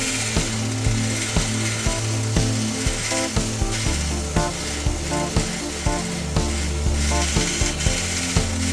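A 3D-printed TPU ring is sanded across its layer lines by a rotary tool, giving a steady grinding whir with regular rhythmic pulses and rubbing scrapes, close and continuous.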